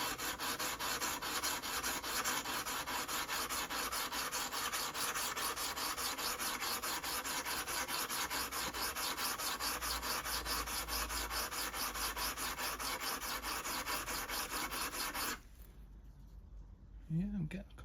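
A Sovereign BL100 garden shredder blade rubbed steadily on a coarse sharpening stone, a close, continuous rasping scrape that stops near the end, followed by a few soft knocks.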